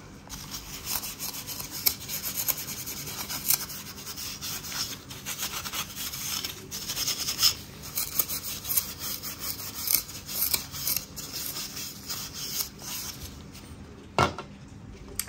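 Hand sanding of a reflector surface makes a continuous close scratching rasp, with uneven back-and-forth strokes and a brief sharp knock near the end, without talking.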